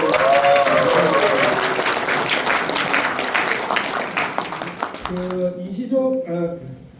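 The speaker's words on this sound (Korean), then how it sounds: "박수 한번 힘차게 보내주세요" A crowd in a culture and sports hall at a Korean lawmaker's report meeting applauds strongly, the clapping fading after about five seconds as music and an amplified voice take over.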